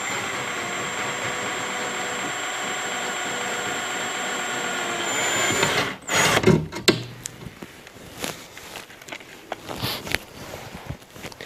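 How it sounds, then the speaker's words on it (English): A power drill whines steadily for about six seconds while boring a hole during fitting of side skirts on a BMW i8, then stops, followed by scattered handling clunks and tool clatter nearby; no talk. "we'll just slowly drill the hole"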